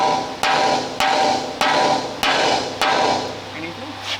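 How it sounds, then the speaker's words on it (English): Five evenly spaced hammer blows ring out on metal while removing running gear from a WW2 German Wespe self-propelled gun, each a sharp clang with a short ringing tail, loud and close. "You're going to need a hammer, I reckon"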